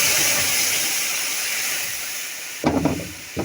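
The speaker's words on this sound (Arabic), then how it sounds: "ننزل بقى بالميه سخنه" Hot water poured into a pot of browned meat for okra stew sets off a loud, steady steam hiss that slowly fades, followed near the end by a few clattering knocks of the pot.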